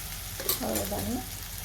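Eggplant curry sautéing in a pan after the tempering and gravy go in: a steady, moderate frying hiss with a soft stirring scrape, and a brief voice-like sound rising over it partway through.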